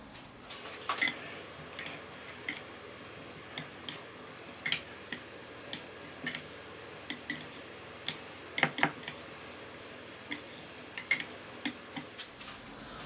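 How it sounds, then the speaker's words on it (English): Egg and grated cheese with black pepper being mixed in a bowl, a steady series of light metallic clinks and taps from a utensil against the dish, close and fairly quiet, with no voices. "we're going to give that a mix"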